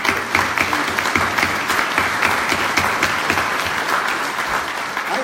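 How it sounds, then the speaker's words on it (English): An audience at an annual campaign kick-off breakfast applauds the board members, giving a steady, full round of clapping from many hands that stays loud and even throughout. "The board members, you deserve a round of applause."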